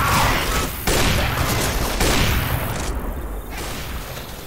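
Gunshots in a Left 4 Dead co-op match with Christmas mods: dense, continuous gunfire and chaotic crashing fill the scene loudly, with no clear gaps between shots.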